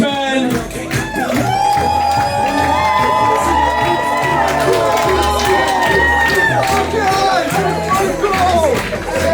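A wedding crowd cheers and whoops for the groomsmen making their grand entrance at the Vero Beach Yacht Club, loud and sustained over music, with shouts and chatter mixed in.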